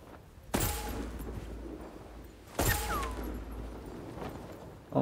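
Gunshots in the Voidtrain video game: two sharp, loud blasts a couple of seconds apart, each trailing into a rumbling tail, with a third starting at the end.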